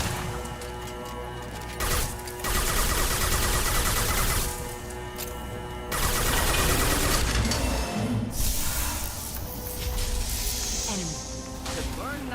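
Gunfire and crashing impacts as a character shoots in the video game Mass Effect 2, loud bursts of shots in blocks with a voice talking between and over them.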